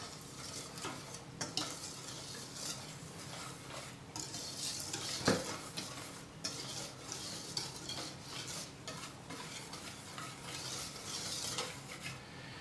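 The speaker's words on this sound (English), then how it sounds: "we're just going to take our whisk and just kind of mix those dry ingredients together" A whisk stirs flour and baking powder together in a bowl for beer batter, giving a continuous soft, gritty scraping and swishing with faint clinks, quiet and unbroken, with no voices.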